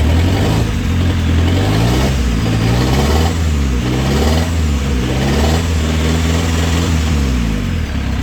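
Chevrolet Captiva diesel engine revved hard after sitting unused for two years, a loud, close, steady roar held at high rpm with slight rises and dips in pitch, no talking over it.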